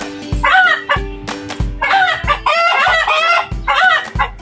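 Chickens cluck and squawk loudly and close by in short agitated bursts, repeating in quick succession as if alarmed by a cat nearby.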